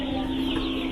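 Chickens cluck close by in a brief, steady burst carrying a sustained tonal note, with no clear talk over it.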